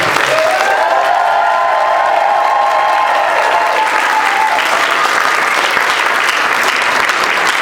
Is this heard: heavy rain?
no